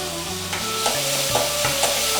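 Fenugreek seeds frying in hot oil in a home kitchen, a steady sizzle with light stirring scrapes and clinks throughout, fairly close and continuous, no talking.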